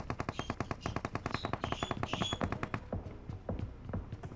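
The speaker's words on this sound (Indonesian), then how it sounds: "Banyak banget tembakan" Sustained machine gun bursts in PUBG hammer out in a quick, even rhythm for over two seconds, then give way to a few scattered, more distant single shots.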